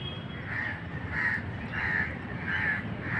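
A bird calling near a village lake, four evenly spaced harsh caw-like calls repeating at a steady rhythm, moderately near over a low outdoor background with no talk.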